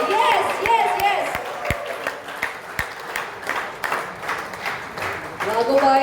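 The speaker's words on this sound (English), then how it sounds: "Can you all clap together louder? I want to hear." A crowd at a cricket team's jersey launch claps together in scattered, rhythmic bursts, with loud talk continuing over the clapping throughout.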